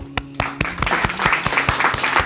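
Applause at a talk on fundraising communication starts with a few loud, separate claps, then swells into steady clapping from a room of listeners.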